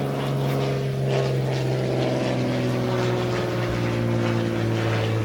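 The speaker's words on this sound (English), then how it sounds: "once the plane passes, I'll finish." A propeller plane drones steadily overhead, its low engine hum and buzzing harmonics loud and constant throughout, with no talking.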